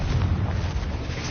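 Confringo blasting curse in Hogwarts Legacy, heard as a loud, low rumbling explosion that rolls on steadily for its whole short span with no clear single crack.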